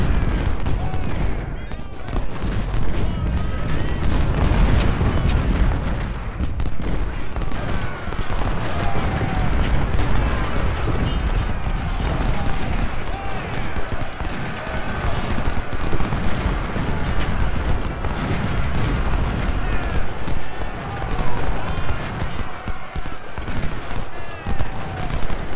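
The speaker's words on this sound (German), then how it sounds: "Die Kanonen." Dense, continuous battle din from the Ultimate General: Civil War game, with booming cannon artillery fire and crackling volleys rolling steadily and loudly throughout, while a voice talks over it.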